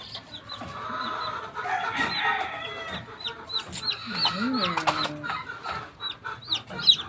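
Chickens cluck and chirp nearby while newly hatched chicks peep in short bursts, irregular and overlapping, with faint outdoor background.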